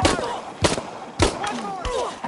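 Repeated gunshots in Shadow of the Tomb Raider played on PS5, four loud sharp bursts roughly every half second with ringing tails, while voices speak between them.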